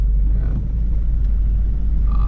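Heavy morning traffic on a rainy downtown road, a constant low engine rumble from vehicles close by, steady throughout with no talking.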